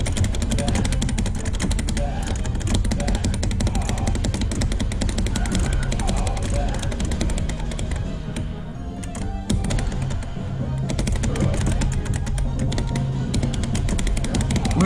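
Arcade shooter gunfire from a 3D-printed Raspberry Pi arcade cabinet, a loud, dense, continuous barrage of rapid shots and game effects that briefly thins out near the middle before resuming at full intensity.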